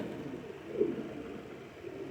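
Ferozpuri pigeons cooing, a pair kept by a pigeon fancier, a single soft coo rising briefly near the middle over a low, steady murmur of background noise.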